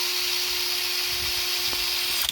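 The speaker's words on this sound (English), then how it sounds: "I'm going to drill another hole right here." A power drill bores a hole in lamp-making material, a steady high whine with a constant hum running throughout, close and loud, with no talk.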